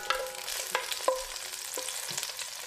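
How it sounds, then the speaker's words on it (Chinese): Scallion, ginger and garlic are stir-fried in not-too-hot oil, a quiet sizzle broken by four or five distinct spatula scrapes against the wok, with no voices. "锅里倒一点油，油不太热的时候呢，放入葱姜蒜，煸炒一下"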